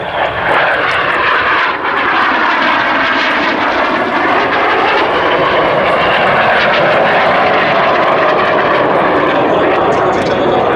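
RAF Red Arrows display jets roaring through an air show performance, a loud continuous engine roar that swells and shifts in pitch as the aircraft pass overhead, with no voices.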